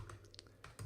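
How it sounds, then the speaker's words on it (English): Quiet computer keyboard typing, a few soft scattered key clicks within a second, close but faint under a low background hum. "I'm typing in right now."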